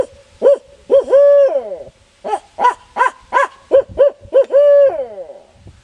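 A voice-driven turkey locator call imitates a barred owl, a loud close run of rhythmic hoots rising into drawn-out wavering calls, used in spring woods to make a gobbler answer. A short pause splits two bursts.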